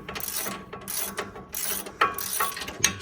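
Ratchet wrench working on a Nissan Xterra Pro 4X sway bar: several close bursts of quick clicking ratchet strokes separated by brief pauses, with metallic clinks and no talking.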